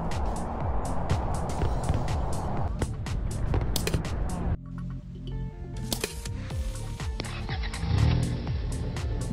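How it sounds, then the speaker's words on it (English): Car engine driving and revving in a car transporter trailer truck Android game, steady motor noise with bumps and clicks throughout, fairly loud, with game sound effects layered in. "Drive the vehicle safely."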